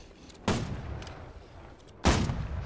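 Two heavy ship cannon blasts in a naval battle video game, a second or so apart, each a loud booming burst that fades into a lingering rumble.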